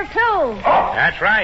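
A dog barks and yips in an old-time radio commercial for Buster Brown shoes, a few bright barks spread across the moment, with a voice speaking over part of it.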